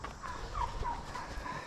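Several turkeys gobble close by, a quick run of warbling gobbles overlapping in rapid bursts at moderate loudness.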